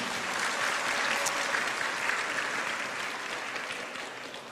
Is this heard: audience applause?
yes